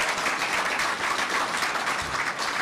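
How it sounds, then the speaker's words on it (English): Steady applause and clapping from an audience at an NCAA Women's Final Four press conference, a continuous even wash of hand claps lasting the whole stretch. "Let's give that a round of applause to those young people."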